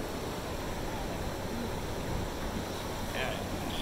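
Ocean waves wash in at the beach as a steady, loud broadband roar, mixed with wind buffeting the microphone, lasting throughout the short moment.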